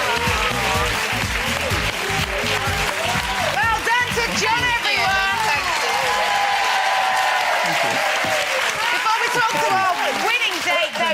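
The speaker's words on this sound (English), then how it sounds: "Please can I have a huge round of applause" Loud, sustained clapping from a television studio audience fills the whole stretch, with cheers and voices mixed in throughout.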